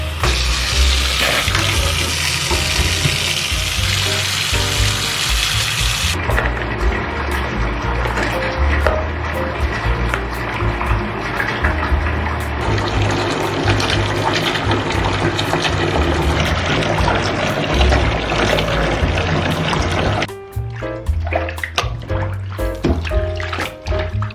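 Tap water runs steadily into a bathtub as clothes are set to soak, a continuous loud rushing fill that carries on for the whole stretch and eases slightly near the end.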